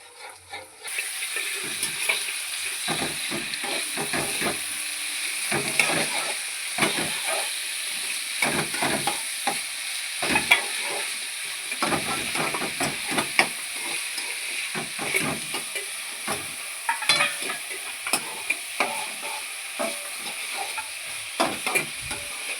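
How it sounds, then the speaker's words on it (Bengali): Chopped onion and chili frying in hot oil in a home kitchen, a steady close hiss and sizzle running throughout, broken by frequent scraping and stirring clicks from a spatula. "তোমাদের বৌদি ভাই পেঁয়াজ লঙ্কা ভাজছে"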